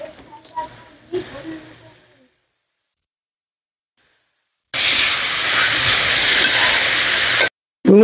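Taro flowers hit hot, well-fried red spice paste in a pan, setting off a loud, steady hissing sizzle that runs about three seconds, then stops and briefly resumes, after quiet kitchen clatter.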